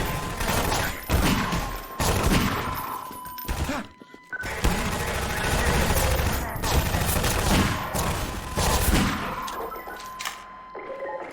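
Sustained heavy gunfire in Half-Life 2 VR, loud continuous volleys of close shots with a brief lull near the middle, with little or no talk over it.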